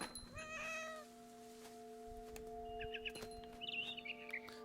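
A cat meows in the What Remains of Edith Finch game, a clear drawn-out call at the start followed later by short bird chirps over a quiet ambient drone.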